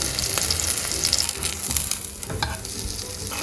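A Korean pancake, or paratha-style flatbread, frying in oil over low-medium heat gives a steady, crackling sizzle close by, with occasional stirring or scraping sounds and no talking.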